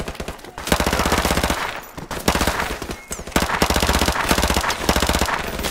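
Rapid automatic Uzi 9mm fire in Call of Duty: Modern Warfare Remastered, several loud close sustained bursts of rattling shots separated by brief pauses.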